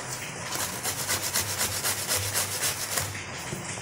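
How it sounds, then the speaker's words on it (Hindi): Bottle gourd (lauki) scrapes against a kitchen grater in quick, even rasping strokes, about two per second, close but fairly soft, with no voices. "सभी लौकी का हम इसी तरीके से कद्दूकस कर लेंगे।"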